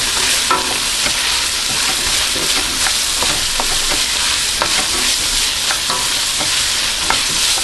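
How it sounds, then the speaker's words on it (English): Mushrooms tossed into a hot pan for beef ragout sizzle and fry loudly and steadily, with a utensil scraping and stirring now and then, up close. "I'm going to toss my mushrooms in here also"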